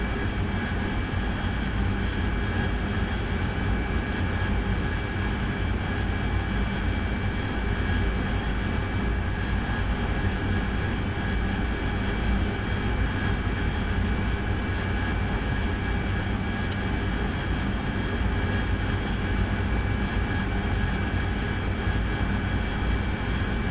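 Steady, loud jet aircraft engine drone in the DCS World flight simulator, holding a continuous broadband roar with a faint whine as the throttle is eased back, heard alone without talk.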